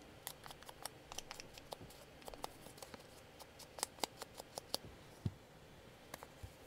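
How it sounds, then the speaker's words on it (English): Small paper ticket pieces being cut or punched out: quiet, rapid clicks and snips in an irregular rhythm, close up and faint, with no talking. "Just cut out those little ticket pieces."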